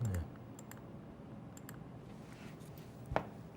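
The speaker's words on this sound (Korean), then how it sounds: "네, 마우스를 한번 눌러보고" A single faint click of a computer mouse near the end, alone in a quiet room after a soft thud at the start.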